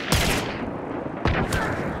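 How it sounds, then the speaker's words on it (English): Two heavy Nitro Express rifle shots boom out in the game Hunt, about a second apart, each a loud, sharp blast trailing into a rolling echo, with no talk. "How many nitro shots I shot this game?"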